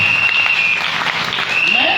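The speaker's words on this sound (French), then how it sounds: "Acclamons très fort pour le Seigneur" A church congregation claps loudly and continuously for the Lord, a dense, close wash of applause that holds steady for a couple of seconds.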